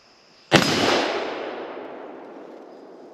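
A single sharp rifle shot from a Savage Model 10 Scout in .308, loud and close, with a sudden crack followed by a long rolling echo that fades over a few seconds.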